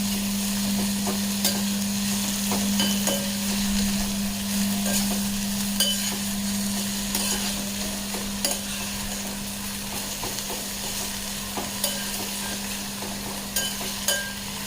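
Sour dock leaves (aambat chuka) are sautéed in a pan, with a continuous close sizzle, occasional stirring scrapes and clicks, and a faint steady hum underneath.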